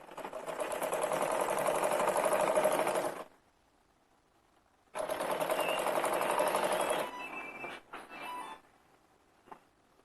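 A sewing machine stitches a sleeve seam on a Rajasthani kurti in two steady runs of about three seconds each, separated by a pause, then a few brief uneven bursts, fairly close and with no talk.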